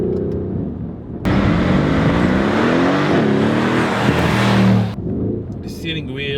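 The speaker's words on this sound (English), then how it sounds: "if you open the flaps with the exhaust button, as I mentioned earlier, the sound is really nice." A Mercedes-AMG GLC 63 S Coupe V8 exhaust with the flaps open gives a loud, sustained rumbling roar that rises as the engine revs. It runs for about four seconds and then drops back, with a voice talking before and after.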